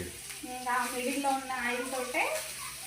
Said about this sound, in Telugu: ఫిష్ ఫ్రై అవుతుంది